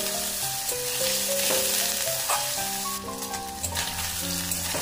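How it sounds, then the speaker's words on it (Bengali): Pieces of paneer fry in hot mustard oil with a loud, dense, continuous sizzle that fills the whole stretch. Tuneful background music plays underneath it. "एर मध्ये आमी दिए देब किछु पनिरेर टुकरो। पनिरगुलो आमी हालका भेजे नेब।"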